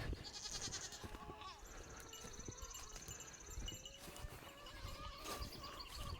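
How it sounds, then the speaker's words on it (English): Goats bleat near a farm pasture with meat birds nearby, several wavering calls spread across the stretch over a busy, noisy outdoor background. "Hey goats."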